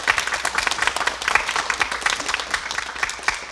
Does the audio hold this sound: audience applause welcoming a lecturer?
yes